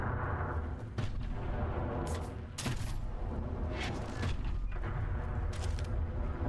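Assault rifle fire in the video game WNO, with several sharp shot bursts spaced over a few seconds above a constant loud game background rumble.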